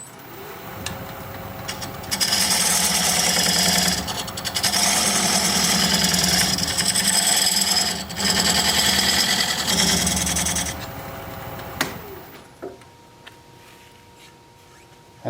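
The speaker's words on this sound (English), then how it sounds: "Now I'm going to use this diamond point tool to square up the sides of the tenon." A diamond point tool squares up the sides of a tenon on a spinning workpiece on a wood lathe, giving a loud, rough scraping chatter in several bursts with short pauses, then dropping off to near quiet with faint clicks.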